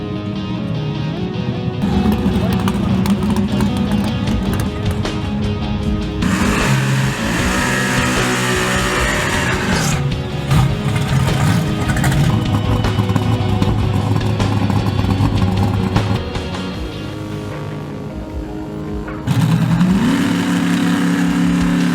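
A hot rod with a 582-cubic-inch big block, a single four-barrel carburetor, one stage of nitrous and a big fat rear tire revs loudly and up close, its engine note climbing and falling in repeated pulls with no talking.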